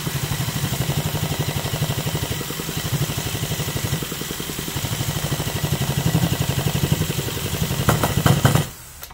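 A MUSA FV1A model engine runs steadily after starting, with a loud, close, rapid buzzing putter that holds even and briefly swells before cutting off abruptly near the end.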